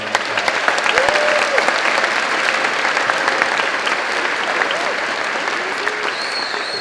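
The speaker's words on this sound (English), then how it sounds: "Let's give them another round of applause." Crowd applause for the graduating class of 2026 at a high school commencement ceremony, dense continuous clapping with some cheering voices rising over it, loud and sustained.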